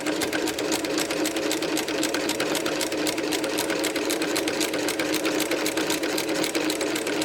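Close and unbroken, a sewing machine stitches through layered fabric for a foundation paper pieced tulip potholder, its rapid, even mechanical chatter holding a steady loud level throughout with no pauses or speech.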